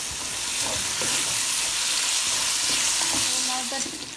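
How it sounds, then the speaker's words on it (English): Masala with green chili, tomatoes and salt cooking for chicken biryani, a loud continuous sizzle and hiss with occasional stirring scrapes up close. "I'm gonna add my green chili now, my tomatoes, and cook the masala"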